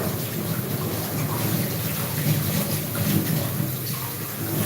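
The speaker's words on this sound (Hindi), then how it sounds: "अभी थोड़ा सा नीचे पकड़ रहा है तो हल्का सा हम पानी डालेंगे इसमें।" Water pours steadily into tomatoes cooking in a pan, a continuous broadband splashing and hissing sizzle lasting several seconds, close and fairly even in level with no talking.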